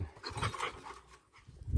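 A dog named Mukhtar pants nearby in short quick rhythmic breaths, close and fairly quiet, with a brief pause before the breathing resumes, no talking over it.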